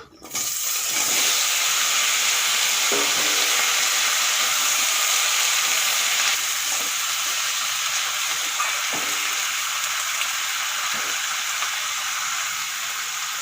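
Chopped vegetables hit hot oil seasoned with two dried chillies and panch phoron, a loud, steady sizzle with a few clatters of stirring, no one talking.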